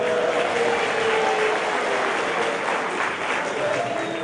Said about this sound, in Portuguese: Uma salva de palmas para a turma aqui, gente